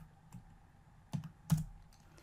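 A computer keyboard's Enter key pressed in a quiet room, two firm, close taps about half a second apart, the second louder, with a faint earlier tap.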